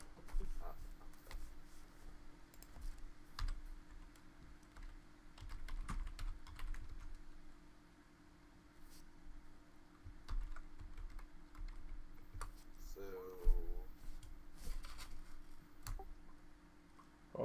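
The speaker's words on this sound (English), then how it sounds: "I didn't actually hear anything other than the slamming of the keyboard." Furious typing on a computer keyboard: rapid, irregular key clatter with heavier slams, fairly quiet and close, with faint voices underneath.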